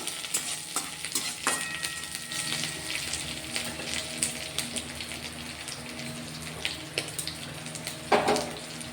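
Curry leaves and chopped green chilies sizzle and crackle in a hot mustard tempering for rice dhokla, with a steady frying hiss, scattered pops and occasional stirring knocks, close and continuous with no voices.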